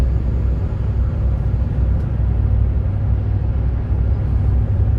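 A 2010 Ford F-150 Lariat pickup truck driving on a test drive, heard from inside as a loud, steady low engine and road rumble that continues without a break.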